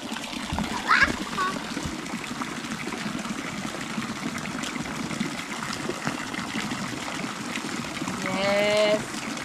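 Strong water pours from falls into a pond, a steady broadband rush filling the whole scene, with splashes and children's voices talking over it and a brief louder burst near the end.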